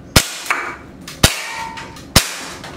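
Three sharp, loud shots from a Glock 19 CO2 airsoft pistol, evenly spaced about a second apart, each a crisp crack followed by a faint metallic ring, no talking.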